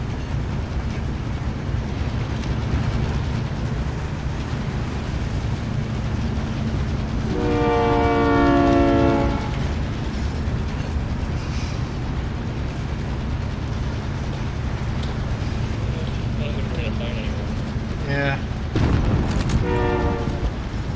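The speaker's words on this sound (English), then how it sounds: "We stay on the train, we can hop on that one right there." Train rumbling steadily along the rails in Call of Duty: Warzone, loud and continuous, with a long horn blast midway and a shorter horn blast near the end.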